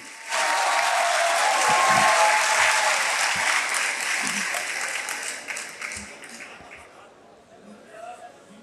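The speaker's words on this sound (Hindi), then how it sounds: "भरपूर तालियों में इस्तकबाल कीजिए, तशरीफ लाती हैं फरीहा नकवी" Warm applause from a mushaira audience in Lahore greeting poet Fareeha Naqvi as she takes the stage, loud and sustained at the start, then thinning gradually toward the end.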